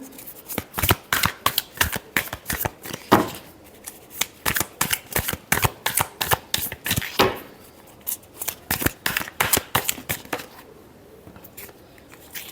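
Tarot cards are shuffled by hand in a long run of quick, crisp riffling bursts, each a rapid flutter of card edges, repeated steadily close up with brief pauses and no voices.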